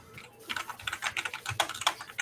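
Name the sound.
typing on a mechanical gaming keyboard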